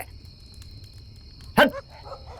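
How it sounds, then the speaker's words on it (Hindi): A single sharp dog bark breaks through a quiet night background of faint insect hum, followed by a softer trailing yelp. "ये कुत्ते भी भौंक रहे हैं।"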